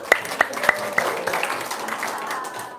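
An audience claps at a religious talk, a few sharp claps at first building into brief, scattered applause that stays fairly close and moderate in level.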